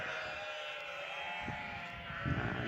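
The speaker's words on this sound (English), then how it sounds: "There's the sheep that are in the field," Sheep in a field bleat at a distance, with a couple of brief calls over a steady outdoor background and a slightly closer bleat near the end.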